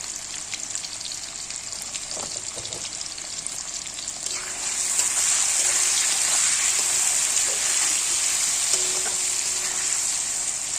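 Potato pieces with salt and turmeric frying in hot oil, a loud, steady hiss that swells partway through, with occasional stirring scrapes and clatter from the pan, no speech.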